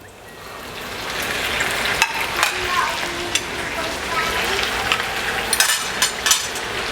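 Pork belly hits a hot pan with sautéed aromatics, making a dense, close sizzle broken by a few sharp spatula clinks and scrapes.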